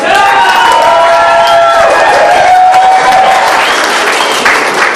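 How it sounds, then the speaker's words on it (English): Loud, sustained applause and cheering from a crowd at a community meal-packing event, steady clapping filling the whole stretch with a few whoops and voices mixed in. "big round of applause for yourselves"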